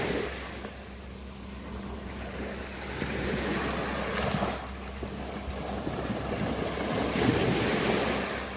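Sea waves wash steadily onto Noi Na beach on Koh Samet, with surf swelling in rushes over a rumbling wind noise.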